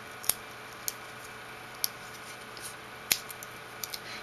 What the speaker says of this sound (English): I'm going to just snip around a bit